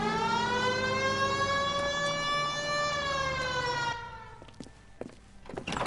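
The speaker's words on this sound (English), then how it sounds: "Hit the siren." Police car siren from the video game L.A. Noire wails loud and steady with a rising-and-holding tone for about four seconds, then cuts off, leaving faint clicks and background noise.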